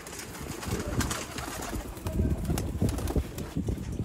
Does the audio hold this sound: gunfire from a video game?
no